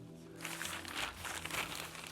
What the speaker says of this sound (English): I'm going to put this plastic bag right up here like this